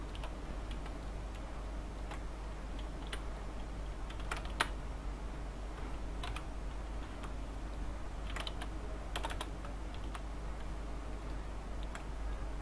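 Steady keyboard typing on a computer, with dense small clicks and occasional sharper key strikes running throughout at a moderate, even level, with no voices.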